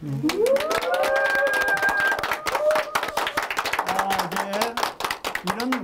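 An audience of about 400 people at a year-end event applauds, dense rapid clapping throughout, with someone speaking loudly over the applause.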